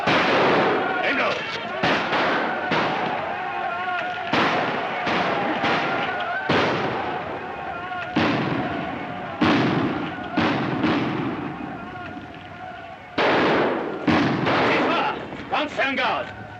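Gunfire rings out in a 1941 war drama, with repeated loud, sharp shots cracking in an irregular volley over more than a dozen seconds while voices shout in between.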